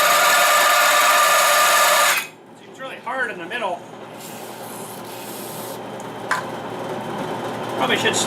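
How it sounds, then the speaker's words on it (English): A loud, steady grinding whine of a power drill for about two seconds cuts off abruptly, followed by quieter handling sounds and a voice. "probably should slow my drill bit down too."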